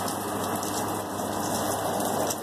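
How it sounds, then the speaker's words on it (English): Steady, dense rain noise with a constant hiss and a persistent high whine running through it, no voices. "It's raining."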